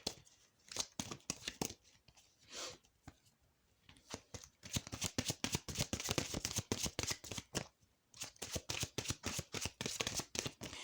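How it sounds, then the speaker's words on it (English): Queen of the Moon Oracle cards being shuffled by hand in rapid riffling bursts of crisp paper flicks, close and clear, pausing briefly between rounds. "now I'm going in with the Queen of the Moon Oracle by Stacey Demarco"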